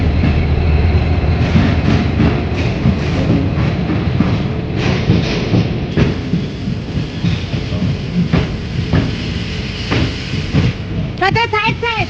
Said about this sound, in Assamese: এইটো আমাৰ ট্ৰেইন আহি গৈছে